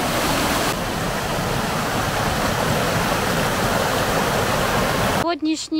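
Loud, steady rushing water fills the whole clip like a fast-flowing, swollen mountain river nearby, broken at the very end by a short burst of something else.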